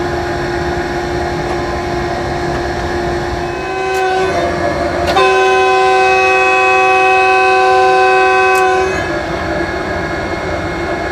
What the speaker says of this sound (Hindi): दो मिनट के स्टॉप के बाद अब पहला विसल दिया जी चकलाला स्टेशन से, और डिपार्चर करेंगे इंशाल्लाह।